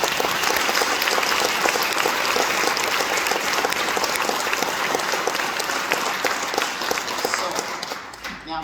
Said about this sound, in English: can we just give the kids another round of applause?